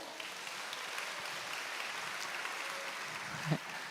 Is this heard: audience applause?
yes